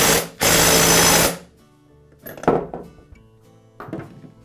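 Impact wrench driving in a chainsaw clutch with a clutch installation tool during a Poulan chainsaw repair: one loud, dense buzzing burst of about a second, then the tool rattling and clinking as it is set down and handled.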